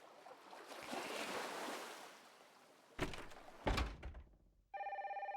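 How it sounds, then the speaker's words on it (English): Telephone ringing in the Nancy Drew: Sea of Darkness video game, a steady pulsing electronic ring that starts near the end after gentle wave-like ambience and a couple of louder thuds. "Oh, not another phone call."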